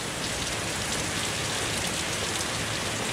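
Steady heavy rain pouring down on surfaces outdoors, a dense, even hiss that stays loud and unbroken, with no voices.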